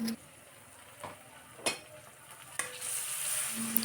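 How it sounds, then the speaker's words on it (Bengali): Spices with garlic and ginger paste are stirred and fried in a pan, giving a low sizzle punctuated by a few sharp spoon scrapes. The frying swells louder and brighter toward the end. "সব কিছু দিয়ে আবারও নেড়ে চেড়ে মিশিয়ে কিছুক্ষণ ভেজে নিব।"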